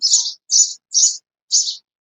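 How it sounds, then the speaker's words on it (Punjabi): Four sharp, high sparrow chirps ring out close by, evenly spaced with short silences between them. "ਇੰਨੀ ਲੜਾਈ ਕਰ ਦਿੰਦੇ ਚਿੜੀਓ ਤੁਸੀਂ"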